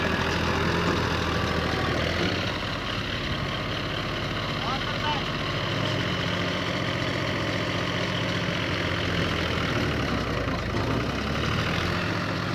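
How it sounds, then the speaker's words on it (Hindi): Mahindra 265 tractor stuck in water and mud, its diesel engine droning steadily and loudly at close range for the whole stretch. "ये देखो दोस्तों, ये ट्रैक्टर जो है पानी में फंस गया है।"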